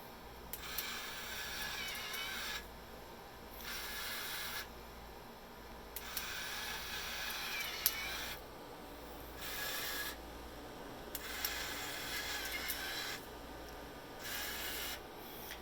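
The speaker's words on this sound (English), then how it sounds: "push our little push button and we're going to dispense one of these tickets" Automatic ticket dispensing machine for tollway windshield tags and envelopes, pushing out a ticket with repeated rasping mechanical whirs in regular bursts separated by short pauses, faint and close.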